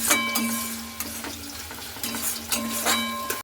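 A spice paste with sugar for a Bengali shol fish curry fries in a pan while being stirred, giving a steady sizzle broken by several sharp clinks of the spoon against the pan, no voices.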